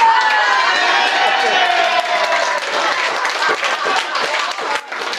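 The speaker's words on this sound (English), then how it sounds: "there was a lot of cheering down here, not much cheering up there" At a wedding reception, a room of guests cheers and applauds loudly, a dense wash of clapping and whoops that slowly thins out, with a voice heard through the crowd.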